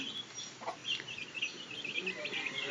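Eleven chickens clucking steadily close by, a busy mix of overlapping calls with faint farmyard background.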